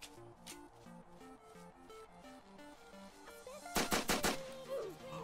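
Burst of PPSh submachine gun fire in the game Apocalypse Rising on Xbox, several rapid loud shots clustered near the end over a steady background music bed.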